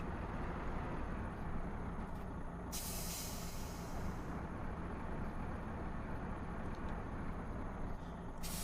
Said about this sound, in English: This poor old Peterbilt has the turning radius of a buckshot.